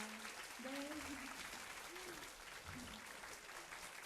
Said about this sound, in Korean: 여러분들 모두 함께 격려의 박수 부탁드립니다